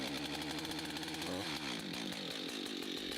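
A chainsaw being cold-started on the ground during manual tree-felling training, its engine catching and running at a high, buzzing rev before dropping to a rougher, pulsing idle, close and loud with no talk.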